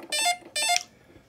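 Two loud, bright electronic beeps, each lasting about a quarter second and spaced about half a second apart, come from a 1980s Frogger handheld electronic game, followed by quiet.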